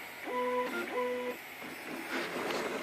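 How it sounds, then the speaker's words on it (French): Small DIY RepRap 3D printer running quietly, two short tonal stepper-motor beeps in quick succession, then softer whirring and shuffling movement noises, near and faint. "Et voilà ma petite imprimante 3D, à peu près finie"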